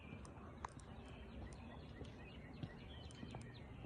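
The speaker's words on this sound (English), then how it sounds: "I hear cardinals and I hear robins." Cardinals and robins sing on a cloudy morning, scattered chirps and whistled phrases at moderate distance over a soft ambient bed, with no one speaking.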